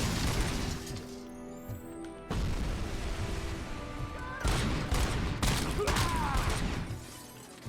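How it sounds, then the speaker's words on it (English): Gunfire in the RoboCop Rogue City video game comes in several loud bursts of shots and booms, separated by short quieter gaps, with debris crashing and shattering between them. "where am I being shot at?"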